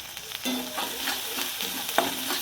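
Onions with turmeric, salt and ground spices get stirred in a hot pan, a low sizzle broken by several close scraping strokes of a spatula, moderately quiet and without speech.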